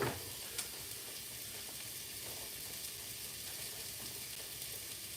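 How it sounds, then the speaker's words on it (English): Steak frying in a pan sizzles with a steady, even hiss throughout, fairly faint and close, with no talking over it. "But the steak is being cooked right now."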